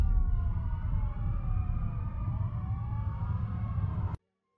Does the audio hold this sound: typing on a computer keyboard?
no